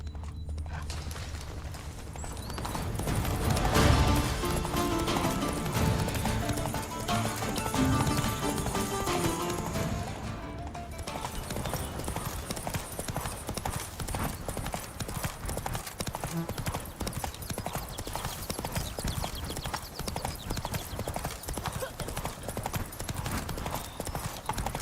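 Galloping horse hooves in The Witcher 3, a steady rapid clip-clop running throughout over game ambience, with talk faint underneath.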